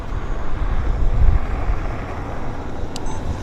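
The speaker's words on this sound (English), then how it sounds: "let's bring the camera around for this Dreamliner" An Air Canada Boeing Dreamliner inbound from Seoul on approach to Vancouver airport, a broad low engine roar building and then easing, heard from a distance with wind buffeting the microphone.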